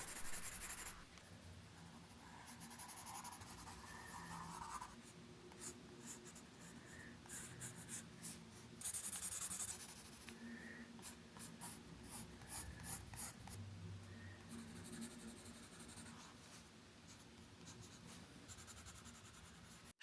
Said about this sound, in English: I'll just leave you to the ASMR of the pencil